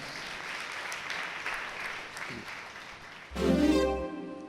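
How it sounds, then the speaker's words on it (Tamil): Applause from a Tamil church congregation during a Sunday service, soft scattered clapping for several seconds, then a loud burst of organ or keyboard chords at the end. "ஆண்டவருக்கு நல்ல ஒருத்தர் கைத்தட்டு கொடுக்கலாமா?"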